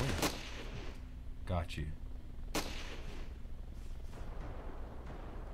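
Gunfire in the video game Ravenfield, a few sharp shots at about a quarter second, one and a half and two and a half seconds over a steady game din, with someone talking briefly.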